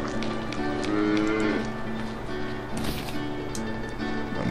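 Cows moo repeatedly on a farm in the video game Force of Nature 2, drawn-out lowing calls over a steady game ambience with no talk.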